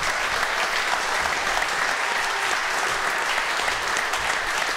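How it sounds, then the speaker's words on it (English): Studio audience applauding steadily for a talk-show guest, a dense continuous clapping that holds at an even level throughout with no voices over it. "Let's hear it for Brad Gelber"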